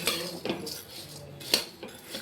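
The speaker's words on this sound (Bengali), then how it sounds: "এবার আমি ওই কড়াইয়ে চাল আর ডালটাকে ভেজে নেব।" Metal utensils clink and scrape against a wok as rice and lentils are dry-roasted, a few sharp knocks and rattles spaced irregularly, close and fairly loud, with no talking.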